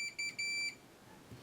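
Multimeter continuity beeper sounding while probing a circuit board during a Neo Geo Mini teardown: a few short, high electronic beeps in quick bursts, then a longer tone that stops, followed by quiet background.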